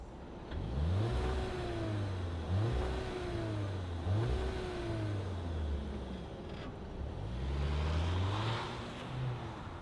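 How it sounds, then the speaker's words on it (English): A 2026 Volkswagen Tiguan SE compact SUV starts and accelerates away, its engine revving up through several rising gear pulls, loud and steady outdoors, no voices. "Why don't we go ahead, fire it up, and see it zoom off."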